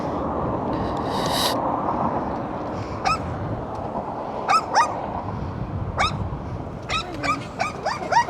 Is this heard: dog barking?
yes